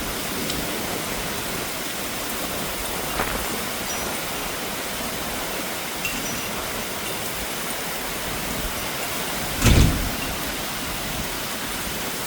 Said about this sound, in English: We have waves going down the street.